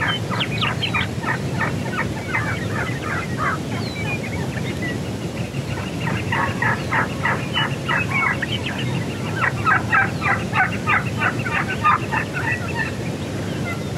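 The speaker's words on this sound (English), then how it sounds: "those two trees right there are slap full of turkeys that have been gobbling their brains out" Several Merriam's wild turkeys gobble repeatedly from a short distance in Montana, their rattling calls overlapping in bursts over a low outdoor rumble.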